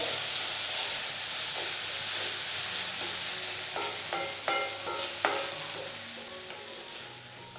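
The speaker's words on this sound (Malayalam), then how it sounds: "ഇതുപോലെ ഒരല്പസമയം ഒന്ന് വഴറ്റി കൊടുക്കുമ്പോഴത്തേക്കും നമ്മുടെ തക്കാളി എല്ലാം നല്ല രീതിയിൽ തന്നെ ഒന്ന് വെന്ത് കിട്ടിക്കോളും" Chopped tomatoes sauté in a pan for a Kerala-style drumstick dish, a steady bright sizzle running throughout with a few metallic scrapes and clinks of stirring toward the end.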